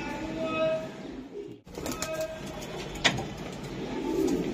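A racing pigeon from a loft coos close by at fairly low volume amid a busy room ambience with a soft tonal hum, and a brief sharp knock partway through.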